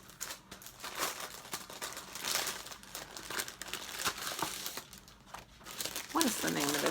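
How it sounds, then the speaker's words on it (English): Plastic packaging on a cross-stitch project crinkles and rustles close by in repeated bursts while a person talks over it. "This is gonna crinkle, crinkle, crinkle."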